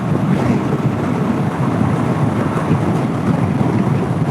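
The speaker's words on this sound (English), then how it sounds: "it is windy AF out here" Strong wind buffets the microphone in a steady, loud outdoor roar that continues throughout, with a low rumbling underneath and no voices.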